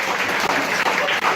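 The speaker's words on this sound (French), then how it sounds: "On peut l'applaudir fort." A group applauds loudly at a birthday celebration for Arnaud, a dense, close burst of clapping over a brief moment.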